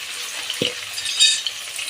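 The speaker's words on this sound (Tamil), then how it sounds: "ஆச்சு போட்ட உடனே வெங்காயத்தை போடுங்க. 2 பச்சை மிளகாய் அதோட போட்டுக்கோங்க." Sliced onions and two green chillies fry in a pan for chicken biryani, a steady bright sizzle with a soft knock of ingredients dropping in and a brief stir partway through.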